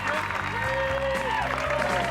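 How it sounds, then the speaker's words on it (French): A TV studio audience applauds a contestant and his partner, a steady crowd wash blended with sustained music and a sung or held tone. "applaudissez Christopher et sa partenaire"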